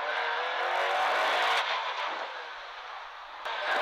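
Ford Escort Cosworth rally car on a stage rally at Brands Hatch, its engine roaring loud and close throughout, revving hard with a brief shift dip before pulling again; no talk.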